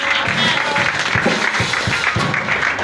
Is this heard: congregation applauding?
yes